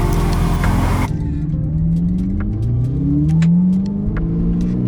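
Ferrari 488 sports car driving off, its engine revving up through rising sweeps close by, loud and continuous with a brief burst of wind or road noise at the start.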